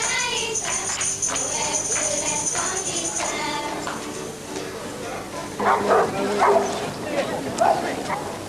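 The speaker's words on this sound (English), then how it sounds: "A life-saving display is also being given by the Newfoundland dogs." Newfoundland dogs bark and yip at a life-saving display beside a river in South Wales, several loud barks over a steady background of talk and crowd noise.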